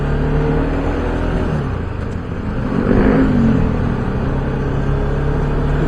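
Motorcycles and tricycles driving past on a street in Marikina, a steady close engine drone with a louder pass swelling near the middle, no talk.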